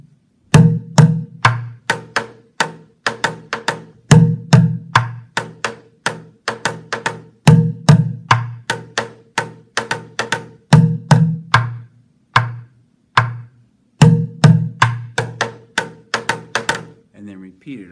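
A bucket drum played in a slow boom, boom, pop pattern, deep thumps followed by a sharper crack, repeated steadily and close up for the whole stretch with no talking.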